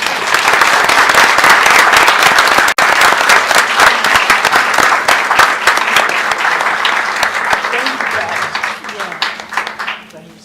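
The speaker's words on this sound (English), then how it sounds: "let's give them a round of applause." Applause at a USD 489 school board of education meeting honoring a retiring member: loud sustained clapping from the room that fades toward the end, with voices mixed in.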